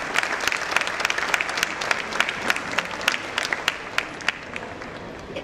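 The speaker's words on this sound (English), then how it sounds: "Please welcome him with a huge round of applause." Steady applause from a crowd, many hands clapping together, loud and close, continuing without a break.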